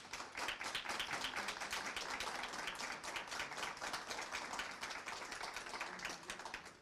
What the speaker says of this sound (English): give them a quick round of applause for all the work that they have put into this meeting